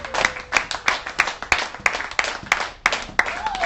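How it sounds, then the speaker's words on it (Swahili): A church congregation claps in a steady, evenly spaced rhythm, about eleven sharp claps in under four seconds, close and crisp. "Tupigie Bwana makofi."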